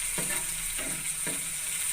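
Tomato and onion sizzle steadily in a pan with spices, a loud continuous frying hiss with a few soft stirring scrapes, close and uninterrupted.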